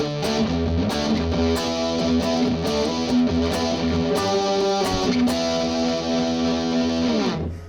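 An electric guitar run through a high-gain metal distortion pedal rings out loud, heavily saturated chords and riffs with sharp picked attacks, ending on a sustained chord that fades away, with no talking over it.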